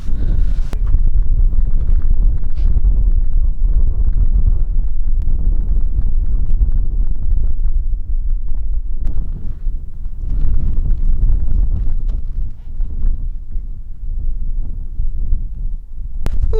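Heavy outdoor wind buffets a microphone continuously, a loud low rumble that barely eases over the full stretch, with no other clear sounds.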